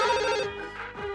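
A telephone rings with a bright electronic ringtone, its tones repeating in a quick pattern and fading slightly toward the end of the brief burst.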